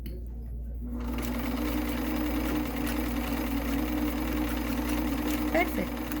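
An Elna Supermatic sewing machine stitching steadily, its motor humming and needle mechanism chattering in a continuous loud drone that starts abruptly after a brief quiet moment.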